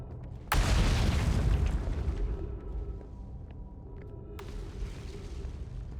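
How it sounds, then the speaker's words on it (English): An explosion on a planet in the video game Outer Wilds, a sudden loud deep boom that rumbles and slowly fades, followed by a second sharper burst a few seconds later over a low background drone. "I have grown numb to the explosions on this planet"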